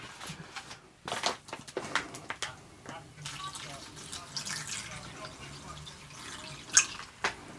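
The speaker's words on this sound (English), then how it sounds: "we're going to fill it with water first up to the fill line" Water running into a Norwegian Arctic field ration drink pouch holding lemon powder, filling it to the line; an uneven splashing trickle with soft drips, with someone talking at points over it.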